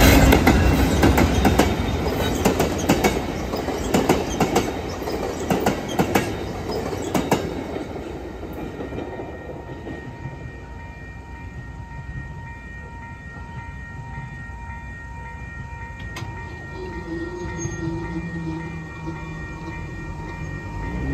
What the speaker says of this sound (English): we are watching the arrival of train number 72,